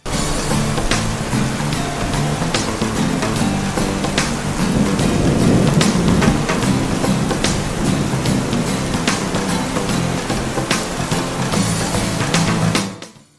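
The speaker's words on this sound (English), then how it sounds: "having rain sound effects in the background actually makes the song a lot better" Steady rain sound effect, with rumbles of thunder, layered under battle music from the Sengoku Basara 2 Heroes game soundtrack; a continuous hiss of downpour runs throughout, with sharp crackles scattered across it, before it cuts off at the end.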